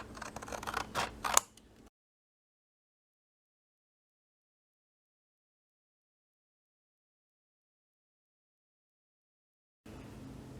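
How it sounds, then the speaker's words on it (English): Scissors cutting cards out of paper: a short flurry of close, crisp snips and rustles that stops abruptly, leaving silence until a faint rustle returns near the end. "the next step is we just want to cut cards out of these"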